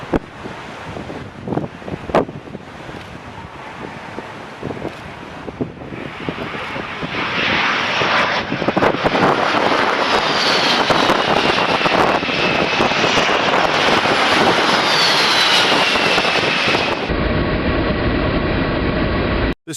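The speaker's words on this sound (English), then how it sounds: "the C-17 arrived with military precision and zero sense of humor" A C-17 military transport aircraft arriving, its engine roar building from a distant rumble into a loud, sustained jet noise with wind buffeting, then cutting off abruptly near the end.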